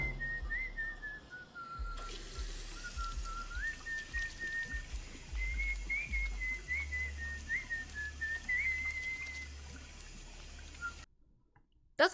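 A person whistles a wavering, sliding tune in a bathroom scene from a TV drama episode, carried on for about ten seconds over low background rumble and faint drips before cutting off.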